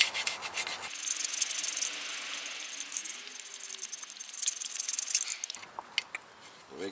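A broken file rasps scale off a 2015 Toyota RAV4 front brake pad bracket, a steady close scraping that runs for several seconds before stopping, with no talking over it.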